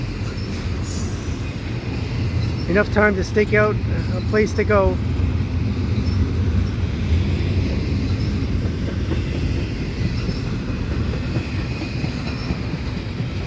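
A westbound CPKC double-stack freight train rolls past at Dorval with a steady low rumble of wheels and cars, plus a brief squeal early on; someone speaks briefly over the noise.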